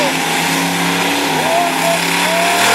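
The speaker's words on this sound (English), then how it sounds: "It sounded like the throttle stuck on that truck" A monster truck engine with a stuck throttle roars continuously at high revs, pitch wavering and rising, with crowd and commentary noise underneath at a night monster truck event in Manassas, Virginia.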